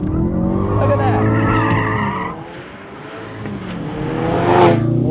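A 2018 Ford Focus RS drifts with its drift stick engaged: tires skid and squeal over the revving engine in a sustained slide, easing off midway before building loudly again.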